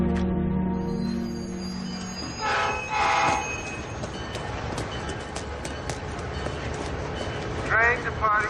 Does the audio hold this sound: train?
yes